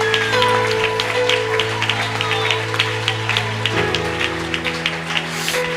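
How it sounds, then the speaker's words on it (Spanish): A church congregation claps along during a worship service, a steady patter of hands under sustained music tones and background voices, moderately loud and continuous. "Sígalo aplaudiendo, hermano, sígale aplaudiendo."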